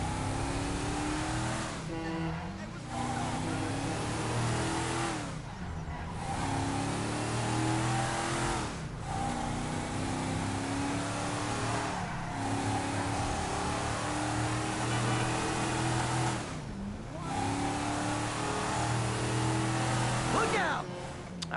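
A loud car engine in GTA V revs hard and steadily through the whole stretch, with pitch climbing and dropping in repeated gear-shift sweeps and brief bursts of noise between them.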